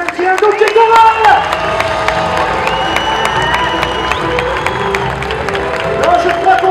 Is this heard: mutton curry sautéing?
no